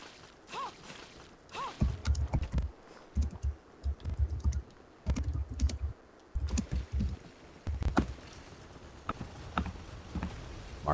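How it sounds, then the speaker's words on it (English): A loud computer keyboard: bursts of fast, clattering key clicks with short pauses between them, close and prominent throughout. "Mars, your keyboard is so loud."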